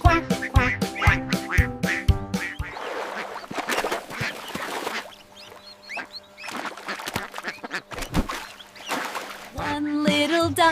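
Cartoon ducks quack in an animated nursery rhyme about five little ducks, several bursts of quacking mixed with music and sung voices, loud and close throughout.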